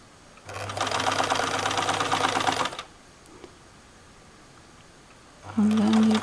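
A sewing machine stitches a jumpsuit strap in two bursts: a steady rapid whir lasting about two seconds, a pause, then a louder, lower-pitched run starting again near the end.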